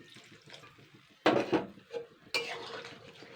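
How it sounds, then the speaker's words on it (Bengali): Two cups of water poured into a pan of cooking beans (flat beans with salt and turmeric), heard as a couple of sudden splashing, sizzling gushes against quieter kitchen clatter. "2 কাপ পরিমাণ জল দিয়ে দিচ্ছি।"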